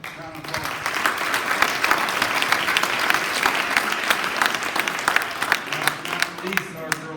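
A large school crowd at a spring sports assembly applauds loudly and steadily, dense clapping sustained for several seconds before tapering off at the close.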